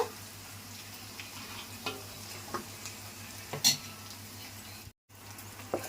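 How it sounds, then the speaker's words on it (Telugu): Tempering of mustard seeds, curry leaves and green chillies in oil, a soft ongoing sizzle with occasional stirring clinks and scrapes in the pan, close and fairly quiet, with a brief dropout near the end. "తాలింపు పెట్టి వేగిపోయిందండి."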